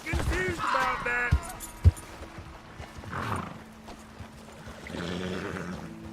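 Horses in the western video game Red Dead Redemption 2 whinny and neigh, with sharp hoof clops and thumps between the calls, fairly loud and close against game ambience, with a voice briefly in the mix.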